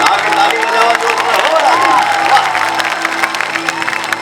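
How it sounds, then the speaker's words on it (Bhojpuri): A big crowd at a live stage show claps and cheers with both hands raised, loud and continuous, with shouts and music carrying over the noise. "दोनों हाथ उठा के ताली बजाओ।"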